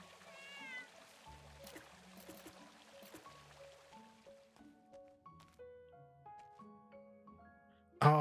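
A game cat in Little Witch in the Woods gives a few quick meows at the start over light tinkling background music, which carries on alone until a sharp, loud sound cuts in at the very end.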